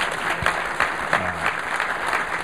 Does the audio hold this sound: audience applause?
yes